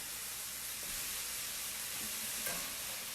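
Chicken pieces sizzle steadily in a saute pan on a stovetop while being turned, a constant hiss of frying with a few soft clinks and scrapes.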